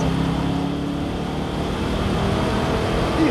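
A race car engine roars loudly and continuously on a track, a dense, steady motor sound with no talking over it.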